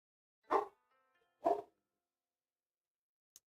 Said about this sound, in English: Either that or it's the neighbor dog.